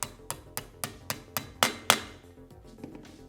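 Columbia 60mm corner finisher part tapped down into its two slots, about eight sharp hammer taps in a steady rhythm, the last two heavier, close and clear with no talking.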